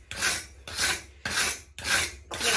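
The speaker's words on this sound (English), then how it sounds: "So I'm going to take my butcher block brush." A wire butcher block brush scrubs a hot forged steel gun barrel in five even, forceful back-and-forth strokes, each a loud, harsh rasp heard up close with nothing else over it.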